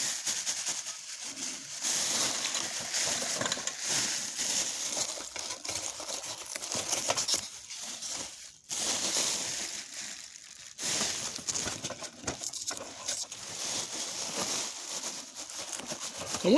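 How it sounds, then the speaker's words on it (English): Foam packing peanuts and plastic wrapping bags being pulled out of a box holding a Marx Southern Pacific diesel train set. Close, continuous crinkling and rustling with a few brief pauses, and no one speaking. "And I'm trying to get this foam, these peanuts and plastic bags that they use to wrap this out of this."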